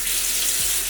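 Tap water runs steadily into a sink while celery is washed by hand, a loud continuous close rush with no voices.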